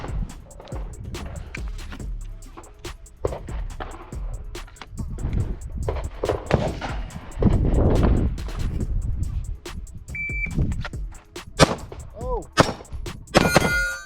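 Pistol shots from a SIG P365 X-Macro and a Glock 19 at a range, with sharp transients in quick succession and bright ringing pings off a steel target, mixed with outdoor noise and brief talk.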